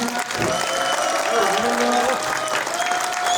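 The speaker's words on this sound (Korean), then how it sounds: "너무 냉랭하신데 뜨거운 박수 부탁드립니다." Dense, steady applause from an audience at a Korean job-guarantee forum rally after a pungmul percussion troupe's performance, filling the room continuously.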